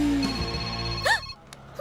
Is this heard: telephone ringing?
yes